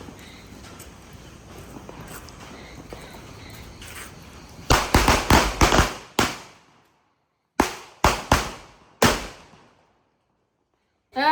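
Diwali firecrackers burst in a rapid string of loud, sharp bangs, then three more separate blasts, each followed by a short fading echo, after a stretch of low background noise.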